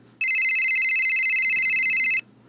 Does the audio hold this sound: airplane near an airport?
no